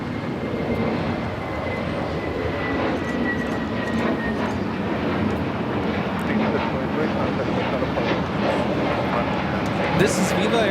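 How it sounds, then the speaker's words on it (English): Viva Aerobus Airbus A321neo on its takeoff roll at Los Angeles International Airport, a steady loud engine roar with a whining tone that builds slightly over ten seconds, heard from a distance. "This is Viva Airbus Flight 623 taking off to Monterrey, Mexico on the A321neo."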